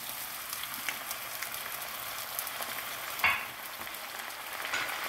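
Masala sautéing in a pan for undhiyu makes a soft, steady frying hiss with light stirring scrapes and one brief clink partway through.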